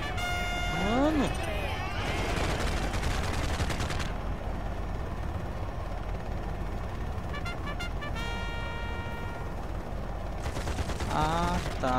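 Machine gun fire from a helicopter in the Xbox 360 game Choplifter HD, steady and dense throughout with game horns, whistling effects and someone talking over it.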